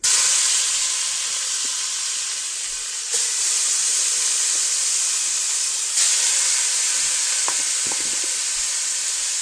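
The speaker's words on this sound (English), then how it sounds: "So now I'm going to start adding the meat." Pre-seasoned goat meat dropped into hot coconut oil with burnt curry and pimento seeds, giving a loud steady hiss and sizzle that surges twice as more meat goes in, with no talk.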